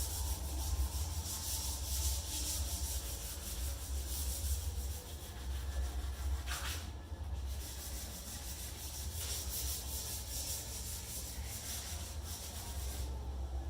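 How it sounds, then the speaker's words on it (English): Steady, continuous rubbing of 320-grit sandpaper wet-sanding primer on a steel bumper during rust repair, a close, even scrubbing texture held at constant loudness with no talk. "now I'm going to wet sand it using 320 grit, and just sand it very, very lightly."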